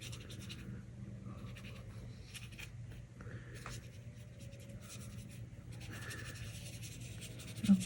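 A brush works a wet watercolor edge on paper, making soft, close scratchy strokes in short repeated passes.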